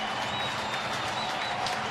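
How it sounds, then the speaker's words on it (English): Baseball fans at a stadium applaud Kirk Nieuwenhuis as he comes up to bat, a short, even wash of distant crowd clapping with a faint voice underneath. "Nice little applause from Kirk."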